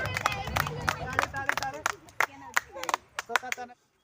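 A small group claps in quick bursts of sharp, close claps, broken up by lively talking and chatter, before everything cuts to silence at the end.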